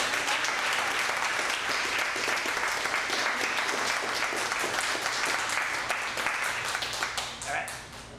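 An audience applauds at a poetry reading: dense, sustained clapping from many hands fills the room at a steady level, then thins and fades near the end.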